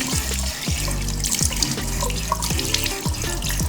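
Water runs steadily from a bathroom tap while a face is rinsed in a skin care routine, a continuous close splashing stream with small bursts of dripping and trickling, no voices.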